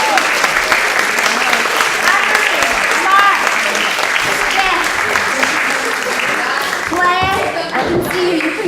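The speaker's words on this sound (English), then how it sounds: "Please, can you cheer them on just to kind of get them up here?" Audience at a childcare group's children's concert and annual meeting cheering and clapping for staff, sustained applause with whoops and shouts rising near the end, voices mixed in.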